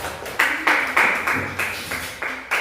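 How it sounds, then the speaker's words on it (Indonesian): A classroom group applauds a student group in rhythmic bursts of clapping, roughly eight evenly spaced claps close by. "tepuk tangan dulu Mbak kelompok"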